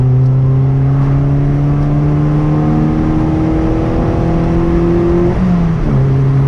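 A car with a full Milltek non-resonated exhaust, 4-1 manifold and sports cat accelerates hard. The loud, close engine note climbs steadily with a raspy edge, then dips briefly at a gear change before pulling again.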